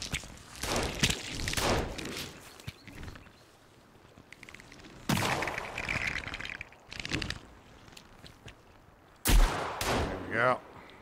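Gunfire in the Sons of the Forest video game booms in loud heavy shots, three main blasts spaced several seconds apart with quieter clatter between, voices talking in the gaps.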